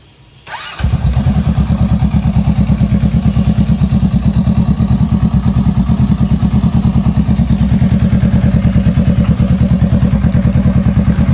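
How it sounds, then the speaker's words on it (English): A 2019 Honda Rebel 500 motorcycle with a custom Orion straight pipe slip-on exhaust starts up close by, then idles in a loud, rapid, evenly pulsing rumble that carries steadily to the end. "Custom Orion exhaust, straight pipe slip-on."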